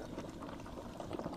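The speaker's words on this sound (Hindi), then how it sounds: "देखो जबरदस्त उबाला आ रहा" Water in a cooking pot boils vigorously with a dense, steady bubbling and rolling churn heard up close, brief and continuous.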